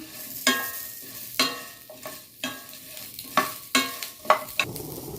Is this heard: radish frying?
yes